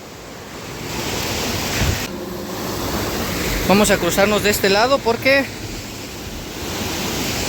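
Heavy rushing water pouring from a ruptured canal during flooding in Ecatepec, a loud steady roar throughout, with someone speaking over it midway.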